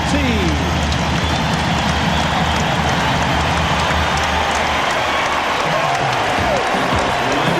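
A basketball arena crowd roars and cheers continuously and loudly through a playoff halftime in Portland, 1992, a dense, unbroken wall of noise.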